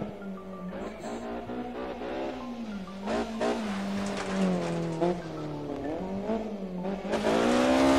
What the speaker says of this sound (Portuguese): Bem característico o som da BMW. Um som mais metalizado.